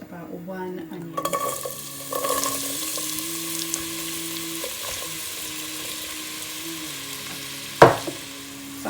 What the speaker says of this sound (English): into my pan goes some oil. And I'm gonna add about 1 onion